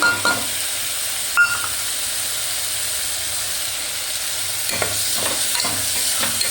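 Onions sautéing over a slow flame, a continuous hiss and sizzle with a few spatula stirs and clicks near the start and end.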